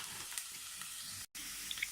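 Steady, quiet sizzling of frozen mince frying with onion in plenty of oil, a constant hiss interrupted only by one brief silent dropout.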